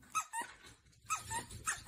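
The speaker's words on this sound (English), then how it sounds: "A dog." A dog gives several short yelping barks in quick succession, faint and slightly squeaky, with brief gaps between them.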